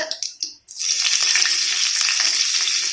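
Garlic hits hot oil in a pan and settles into a loud, steady sizzle, close and continuous, after a few brief knocks at the start.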